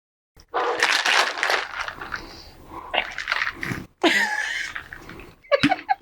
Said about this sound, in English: Strain into a chilled cocktail glass.